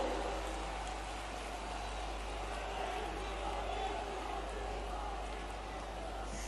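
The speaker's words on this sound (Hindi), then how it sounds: "जोरदार तालियां हो जाएं आपके स्वागत अभिनंदन में।" A large crowd applauds in welcome of Prime Minister Modi at a public event inaugurating development projects, a broad, unbroken roar of clapping with a low electrical hum underneath and faint voices mixed in.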